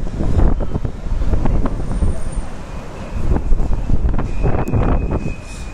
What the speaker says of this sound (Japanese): 風やばいよ。 東京台風状態。